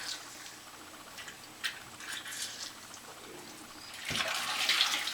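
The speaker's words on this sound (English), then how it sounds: "I'm rinsing with cold water." Tripe is rinsed under cold running water while cooking Jamaican curry tripe and beans, with soft splashes and handling sounds at first and then a louder, steady rush of tap water near the end.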